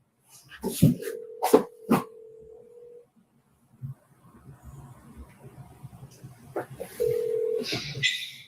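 A phone call being placed: a series of keypad dialing tones, then a ringback tone, with a dog whimpering in the background and quiet voices between the tones.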